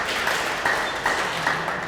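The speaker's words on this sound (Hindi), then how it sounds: "बहुत जोरदार तालियों के साथ इनका शुक्रिया किया जाए।" Audience applause at a farmers' quiz event in Jhajjar, Haryana, a short burst of crowd clapping that stays steady, with a few louder claps standing out.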